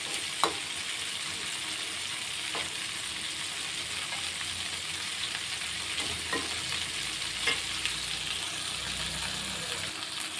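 Small river crabs stir-fried in a pan, giving a steady close sizzle with occasional clinks and scrapes of stirring throughout.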